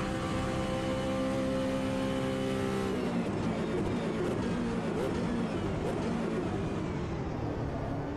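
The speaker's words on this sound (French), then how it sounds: "on est donc sur Monza pour tester cette hypercar." A hypercar engine screams at high revs on the Monza circuit in the racing game Automobilista 2, loud and continuous, the tone shifting as it changes gear and roars on.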